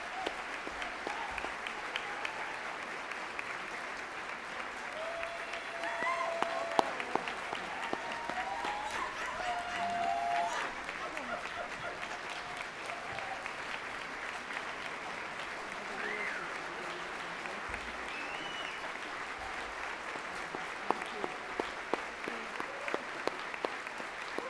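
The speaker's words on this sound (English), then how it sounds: "Please join me in giving me a warm applause for our amazing women." Warm audience applause at a local Indigenous lifetime achievement award ceremony honoring women working to eliminate homelessness: dense, steady clapping from a sizable crowd, sustained for about twenty-five seconds, with a few faint voices or cheers mixed in.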